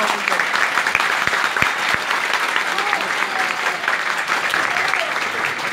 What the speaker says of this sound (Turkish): Kuvvetli bir şekilde arkadaşlarımızı alkışlayalım.